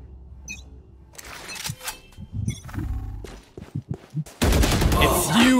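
Rapid gunfire bursts from the video game Valorant, sharp clustered shots with clanks mixed in, growing denser and louder toward the end, with game noise around them.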